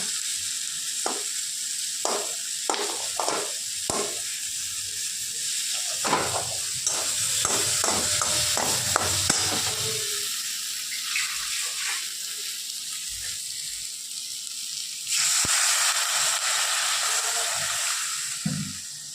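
Water goes into a hot pan of tomatoes. There is a run of sharp clicks and clatter, then a sustained hiss and sizzle that swells loudly toward the end, all close and without talk.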